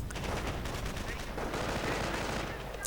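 MG42 machine gun fire in a World War II strategy video game, rapid dense crackling bursts running continuously at moderate level, with a sharp report right at the end.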